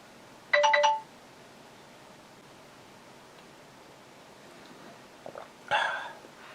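Two quick phone notification chimes, each a short bright tone burst, sound over quiet room hiss, the first near the start and a second softer one near the end.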